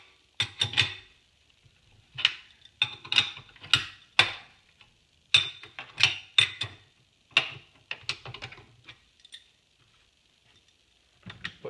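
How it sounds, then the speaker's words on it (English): A wrench ratchets to undo bolts on a homemade sheet metal brake, close sharp metallic clicks in irregular short bursts separated by pauses. "Undo the bolts."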